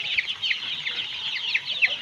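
Broiler chicks in a poultry shed give a run of sharp, high-pitched clucks and peeps, close and fairly loud, over a quiet background.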